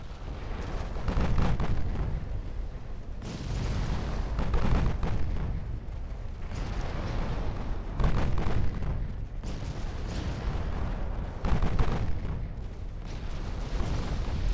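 Naval gunfire from warships engaging the Italian fleet in Ultimate Admiral: Dreadnoughts, a steady run of heavy, loud booms and rumbling blasts that recur every few seconds throughout.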